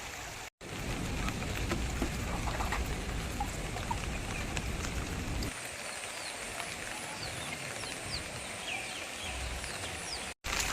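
Steady broadband patter of rain in the hills, continuous and fairly loud throughout, with a deeper rumble in the first half that drops away midway.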